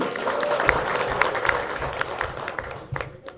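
Crowd at a Bangladeshi political rally clapping in a dense, steady patter of many hands, loud and close, with a few sharper claps standing out and the applause tapering slightly toward the end.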